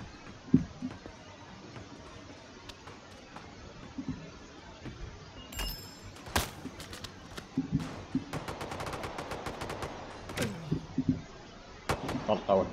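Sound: gunshots in the video game CROWZ

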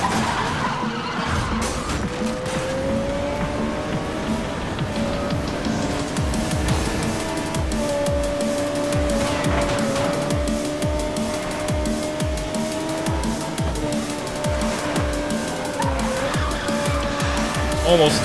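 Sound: Ariel Atom drifting, tires squealing, NFS Most Wanted video game

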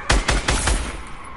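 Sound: gunfire at zombies in video game Fortnite

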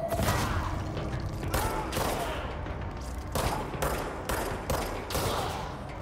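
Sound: enemy rocket fire in the video game Control

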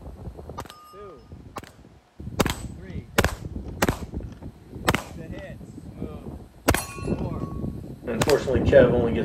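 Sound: gunshots in a practical shooting competition stage

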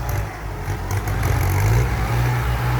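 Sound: tractor diesel engine running

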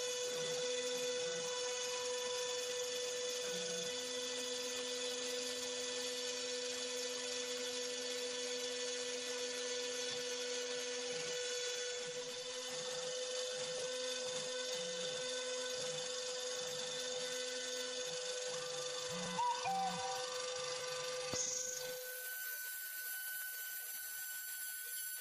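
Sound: CNC machine drilling circuit board

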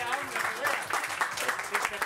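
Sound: audience applause

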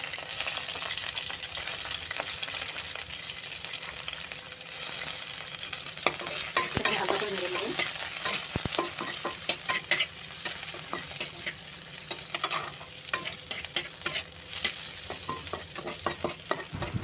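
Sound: onion and garlic frying in a little white oil

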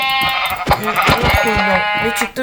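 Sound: sheep bleating in Minecraft video game

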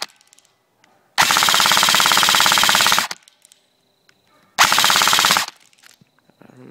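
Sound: Black Ops M4 Viper blaster firing rapidly at a tree

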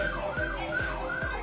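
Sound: emergency vehicle siren

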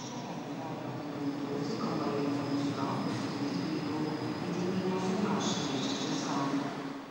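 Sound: international train from Vigo

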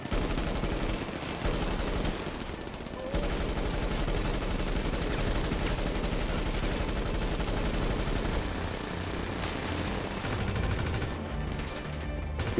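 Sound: gunfire in the video game DayZ

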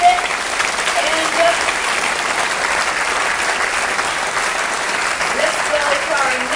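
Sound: audience applause at ship christening ceremony

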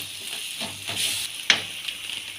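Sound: ginger garlic paste frying in a pan

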